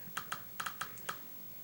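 Keystrokes on a computer keyboard while entering a command to run Windows on a Wii: about seven crisp, separate key taps in an irregular rhythm, close and clear, with no talking.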